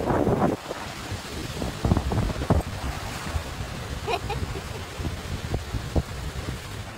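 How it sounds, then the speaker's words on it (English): Ocean waves churning and breaking with wind buffeting the microphone, a rough, uneven wash with gusty rumble and a few sharper splashes, no talk. "These waves are ferocious today."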